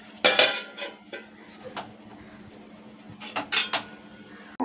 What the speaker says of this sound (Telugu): మూత పెట్టేసుకోవాలి.